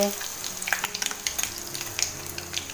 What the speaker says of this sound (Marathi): राई तडतडते